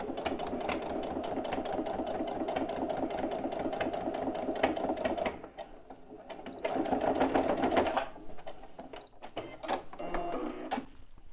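A sewing machine stitches piping along an earlier seam line on a TwoZip zip pouch, running in steady rapid bursts with a short pause midway before resuming more briefly.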